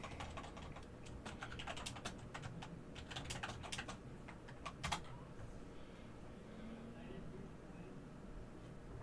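Keys clatter on a computer keyboard in quick irregular bursts, several sharp taps clustered near the middle, over a steady low room hum.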